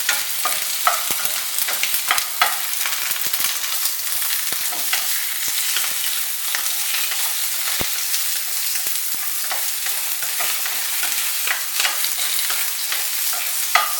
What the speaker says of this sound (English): going to drop the bok choy.